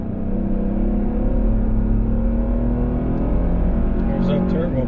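A 2022 Toyota Tundra with a turbo V6, in tow/haul mode and pulling a 7,000-pound trailer, accelerates hard with a steady, loud engine drone heard from inside the cab, plus a faint higher whistle near the end.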